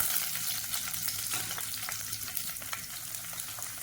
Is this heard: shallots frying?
yes